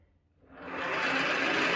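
A tiny hobby lathe with its auto drive threading feed engaged, motor noise rising from near silence into a steady whirring hum that holds, close and moderately loud.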